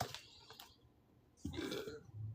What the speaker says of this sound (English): it's confirmation burp